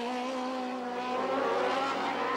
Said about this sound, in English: Smooth power slides out of all the corners